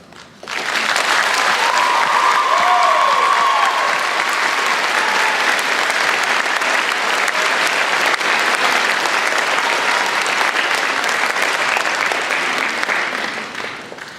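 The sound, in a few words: audience applauding graduates at graduation ceremony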